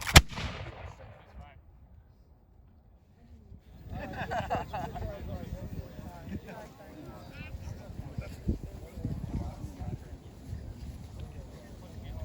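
Reenactors firing a musket volley at a Valley Forge Continental Army anniversary event: one sharp, loud blast, then a hush and outdoor crowd noise with wind, voices talking in the background.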